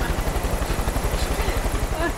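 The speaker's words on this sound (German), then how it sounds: "Da ist ein böser Hubschrauber." A hostile helicopter in Far Cry 5 with a steady rhythmic rotor thump throughout, loud and continuous under a man's speech.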